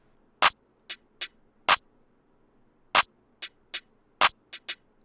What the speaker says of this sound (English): I'm going to solo this with the clap so you can sort of hear what it's going to sound like